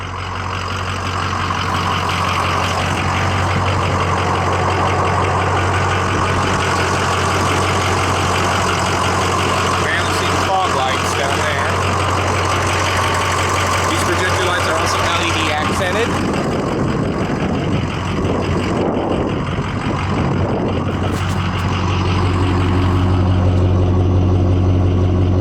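A lifted 2005 Ford F250 Super Duty Powerstroke diesel truck idles steadily, close and loud, with a deep, constant rumble and clattery texture throughout.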